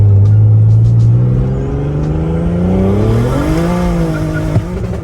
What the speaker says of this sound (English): I'll do a little second gear because that's when it loses traction